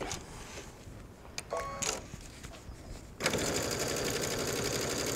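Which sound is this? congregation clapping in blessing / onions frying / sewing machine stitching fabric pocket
sewing machine stitching fabric pocket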